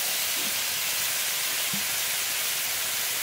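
Pre-fried tilapia added to a hot pan with slit green chillies for a Bengali curry, giving a loud steady sizzling hiss that runs unbroken throughout, with a couple of faint soft bumps underneath.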